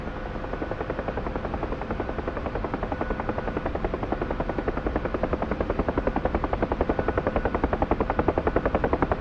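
UH-1H Huey helicopter in the DCS flight simulator, its engine and rotor droning loudly and continuously with a fast, steady rotor thump that strengthens toward the end.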